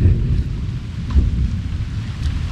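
Steady rain pours in a backyard where children are playing, with deep, rolling thunder rumbling low beneath the hiss; no voices are heard.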